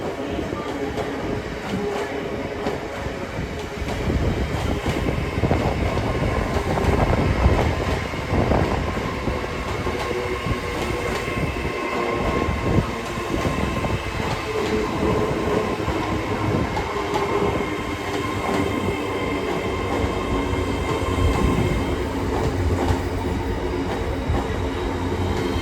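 A Class 801 LNER service to London King's Cross rolls into Newcastle station, with a loud continuous rumble, wheel clatter and brake squeal under station ambience and some talk.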